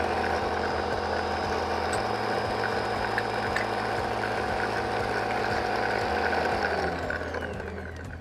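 An Ankarsrum Assistent Origin stand mixer churns cookie dough with vanilla added, giving a steady mechanical whir with rhythmic clicking and grinding that runs unbroken and fairly loud, easing slightly near the end.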